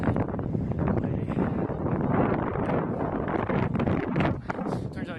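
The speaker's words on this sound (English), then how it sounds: "I don't know if I'm going to be able to hear much with this wind" Strong wind buffets the microphone near the Golden Gate Bridge, a loud continuous roaring rumble with gusty swells throughout, while a person talks underneath.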